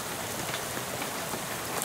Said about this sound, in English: How about this rain, huh?